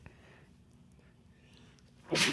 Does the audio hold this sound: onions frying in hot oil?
no